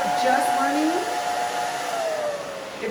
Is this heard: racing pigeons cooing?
no